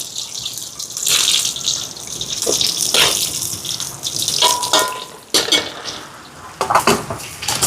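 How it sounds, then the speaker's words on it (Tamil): Water is poured into a cooking pot with onions, dal and crushed ambarella, a sour fruit. The splashing and running water mixes with clinks and clatter of metal pots and utensils, in uneven bursts close by. "தண்ணி கொஞ்சம் சேர்க்குறேன் அவியறதுக்கு அம்பரலங்காய்க்கு."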